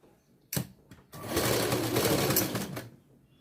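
A sewing machine stitches a fold on a blouse in a short burst of rapid mechanical running lasting about two seconds, preceded by a few brief clicks and thumps as the fabric is positioned.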